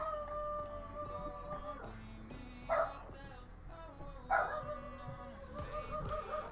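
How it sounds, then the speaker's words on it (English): A pet dog barks and yips in short bursts, fairly distant and muffled indoors, over a steady hum and faint background sounds. "dog's going off."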